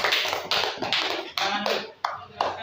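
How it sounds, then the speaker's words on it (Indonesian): A school class claps their hands together during a lesson. Six or seven loud, distinct bursts of group clapping come at a steady pace, each one dying away quickly. "Silakan beri tepuk tangan dulu"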